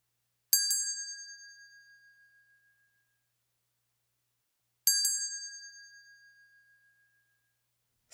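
A meditation bell is struck twice, several seconds apart, each clear bright ring decaying slowly into silence.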